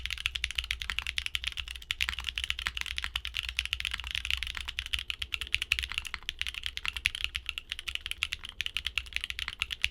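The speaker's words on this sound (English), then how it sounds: "Both the Baby Kangaroos and Raccoons produce a bright, marbly clack that's super resonant." Rapid, continuous typing on a mechanical keyboard fitted with Gateron Baby Kangaroo and Raccoon clacky switches, bright sharp clacks in a dense close-up stream with no voices.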